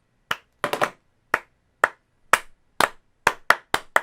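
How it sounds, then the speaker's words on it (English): Single sharp hand claps ring out one at a time for syncing a camera on a live talk show, about ten crisp, close, dry claps at an irregular, loose rhythm with silence between them. "let me get a clap"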